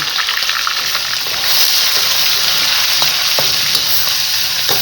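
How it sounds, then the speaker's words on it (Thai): Minced pork, kale and garlic stir-fried in a pan, a loud steady sizzle with scraping stirs over it and no voices. "ผัดหมูสับนะคะ ใส่คะน้าครับ ใส่กระเทียมก่อนนะคะทุกคน"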